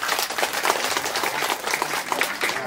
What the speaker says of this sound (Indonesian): Tepuk tangan mun.